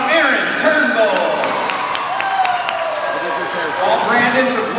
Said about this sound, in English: I want to race fans another round of applause